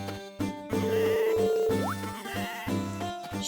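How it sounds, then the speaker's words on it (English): Sheep bleating near the brush on a rural walk: several close, loud, wavering bleats overlapping in a steady chorus, with faint tinkling in the background. "Sheep that like the brush."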